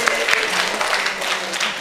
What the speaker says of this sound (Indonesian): Kita kasih aplaus buat Mas Dimas ya